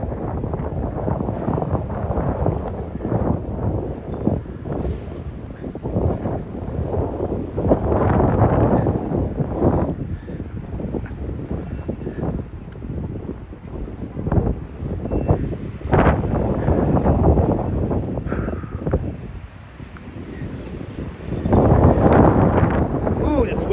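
Strong, gusty wind outdoors in Lower Manhattan, roaring and buffeting the microphone in uneven low rumbling surges that swell and ease, loudest near the end, with a voice heard faintly at times.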